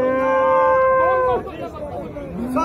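A cow at the Abu Wir cattle market lets out a loud, close, drawn-out moo lasting over a second, followed by a murmur of crowd chatter and voices in the background.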